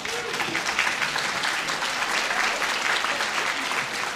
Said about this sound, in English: Another round of applause for Andrew.